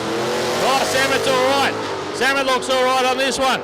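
A Cortina drag car launches at Palmyra Raceway in Australia. Engines rev and whine loudly with rising and falling pitch sweeps, mostly under excited commentary.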